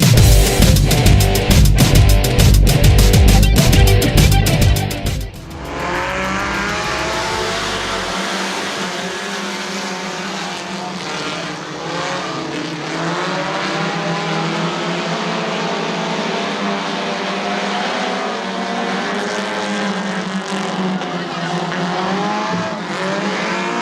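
Stock race cars roar around a short oval track, starting with a loud, rough pack of engines up close, then a sustained high whine of several cars racing past and circling continuously at full throttle.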